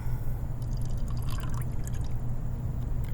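Cold water poured from a cooler into a cup, a light splashing trickle over a steady low background hum, lasting a few seconds.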